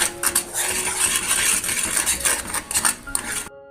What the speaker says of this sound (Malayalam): അതിനുവരെ നമുക്കിങ്ങനെ ഇളക്കിക്കൊണ്ടിരിക്കാം